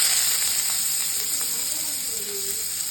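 Grated onion tipped into a hot pan of simmering liquid, giving a steady bright sizzle and hiss close by that fades slightly over a few seconds, with faint bubbling underneath.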